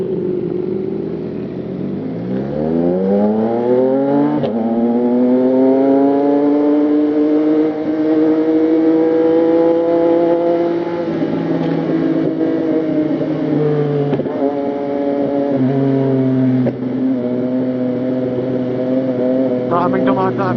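Motorcycles and cars pass close by on a busy road at night, engines rising and falling in loud, overlapping sweeps with shifting pitch as vehicles approach and pull away, under a steady engine drone.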